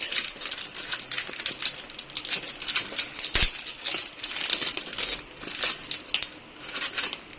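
A sealed plastic bag is opened, giving irregular close crinkling and crackling rustles with one sharp tearing snap partway through, heard alone without talk.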